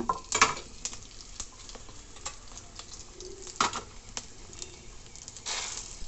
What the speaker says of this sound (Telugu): మినప్పప్పు, శనగపప్పు ఇవి నూనెలో దోరగా వేయించుకోవాలి.